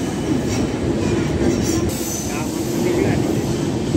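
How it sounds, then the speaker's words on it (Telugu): A train passes on the Bhor Ghat line, a loud, steady rumble of wheels on track with faint squeals, heard from onboard a moving passenger train. "అట్నుంచి ట్రైన్ పాస్ అయింది ఇప్పుడే"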